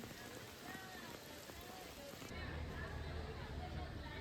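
Rain falling at Matheran, a vehicle-free hill station during the monsoon, a steady soft patter throughout, faint and close, growing slightly heavier toward the end.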